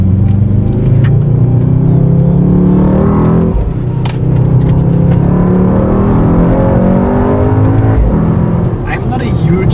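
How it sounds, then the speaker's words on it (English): A tuned 760 hp Mercedes-AMG GT 63 S four-door coupé V8 at full throttle on an open road: a loud, close, rising engine roar broken by two quick gear shifts, with some talk over it. "let's floor it a bit and see how it goes"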